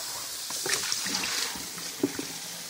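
Warm water runs steadily from a tap with splashing and sloshing as meat taken from pho broth is rinsed beneath it, close by, with no talking.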